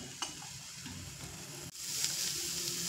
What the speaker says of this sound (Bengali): তো আবারও ধৈর্য ধরে কিছু সময় ধরে কষিয়ে নেব।